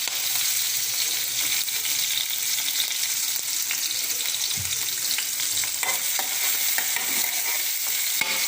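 Three green chillies and coconut frying in oil for a coriander-mint thuvayal, a steady soft sizzle with scattered crackles and occasional stirring scrapes, fairly quiet and with no talking.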